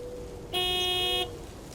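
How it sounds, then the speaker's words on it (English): A truck horn sounds in the video game Lake: one steady honk lasting under a second, loud and close over a faint engine hum. "Big, white, wobbly, and with a honking great horn. Honk honk!"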